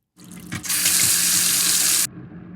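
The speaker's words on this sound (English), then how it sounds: "this is how water running in my kitchen sink sounds" A kitchen tap turns on and water gushes into a sink for about a second and a half, then shuts off abruptly.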